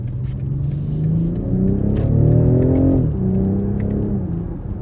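A 2023 BMW X6 xDrive40i M Sport with its 3.0-litre turbo engine pulls hard in sport mode, a loud, steady rising engine note that climbs, shifts abruptly near the three-second mark, then keeps building.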